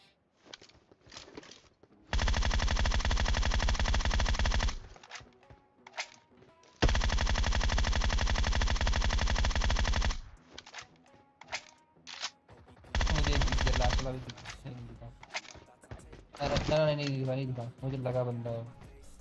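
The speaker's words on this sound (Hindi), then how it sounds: "मैं गोलियां चला रहा हूँ पूरे ध्यान से" Automatic gunfire in the mobile battle royale game PUBG Mobile, likely an M416 assault rifle, fired in three long sustained bursts with shorter bursts and single shots between, loud and close, over quiet background game sounds.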